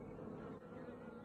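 Honeybee swarm leaving an apiary, a faint, continuous buzzing drone of many bees heard at a distance, steady over the short moment without voices.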